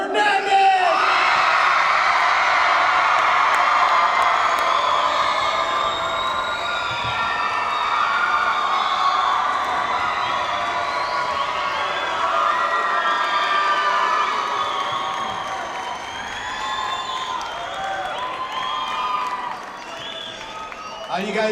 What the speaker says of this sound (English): Let's give a big, warm, exciting, screaming, yelling welcome for Dr. Jose Hernandez!